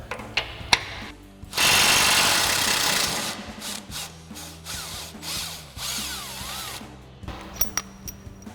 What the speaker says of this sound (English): So we'll grab our 19 mil socket on our impact to do that.